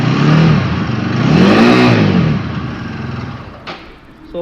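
A 2022 BS6 TVS Apache RTR 200 4V motorcycle engine is revved close by, its pitch climbing and falling twice in loud swells before settling to a quieter idle.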